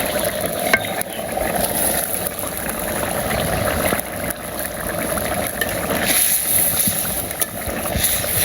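Fish dropped into a simmering curry in a pan in a village kitchen, giving a steady, moderate sizzle and bubbling that runs throughout with small stirring clatters.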